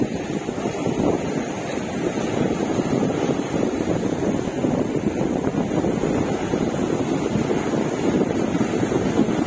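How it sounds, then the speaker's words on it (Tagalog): Strong wind and surf on the beach at Barangay Bilaran, Nasugbu, Batangas, a steady close roar of gusts mixed with crashing waves that never lets up. "lakas talaga ng hangin"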